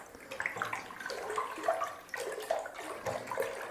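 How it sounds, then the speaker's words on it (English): Zinfandel wine must being stirred vigorously in a fermenting container, close-up wet sloshing and swirling in uneven surges, with no talking. "give this a nice, good, vigorous stir"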